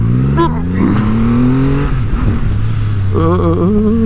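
Triumph Rocket 3 R Storm motorcycle, 2024 model, accelerating hard from low speed, its engine note climbing steadily through the revs, loud and close under wind rush while a rider talks over it.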